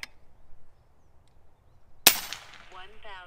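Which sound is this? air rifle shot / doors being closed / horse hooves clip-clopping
air rifle shot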